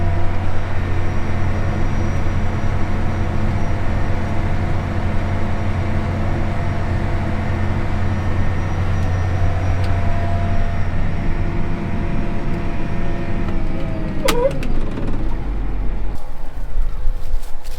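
A tractor drives steadily while spreading urea fertilizer, its engine a continuous loud drone with rumbling low hum throughout, ending in a brief rattling clatter near the end.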